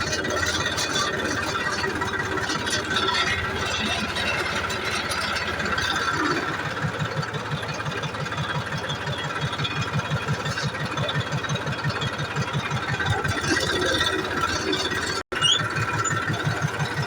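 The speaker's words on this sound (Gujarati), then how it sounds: "હવે ટ્રેક્ટર આપણે હવે ટ્રેક્ટર મશીન આવે અને પાછા ખાતર નાખવાનું ચાલુ કરે" Tractor with fertilizer-spreading machinery running on a farm field, a steady mid-pitched engine drone with rattling and faint squeal, continuous and fairly close throughout.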